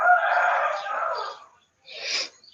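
A rooster crows once nearby in a backyard, a long strained call followed after a short pause by a brief final note, clear against a quiet background.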